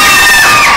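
Audience at a live comedy music show screaming loudly, a dense sustained crowd roar of high-pitched shrieks filling the whole moment without pause.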